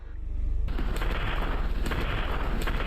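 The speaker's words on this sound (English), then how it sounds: "So the wither's spawning in." A Minecraft wither spawns in with a sudden loud, dense burst of crackling, booming noise that sustains with rhythmic pulsing.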